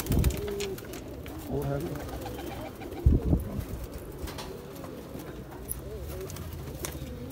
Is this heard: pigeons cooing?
yes